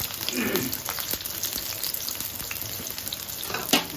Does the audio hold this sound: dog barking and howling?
no